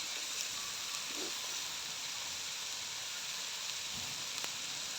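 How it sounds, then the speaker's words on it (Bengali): Vegetables sizzle lightly in a pan for fried rice at a home picnic. A steady, soft frying hiss runs the whole way through, with no talk over it. "এখানে সবজিগুলো হালকা করে ভেজে নেব। এগুলো সব ফ্রাইড রাইসে দেওয়া হবে,"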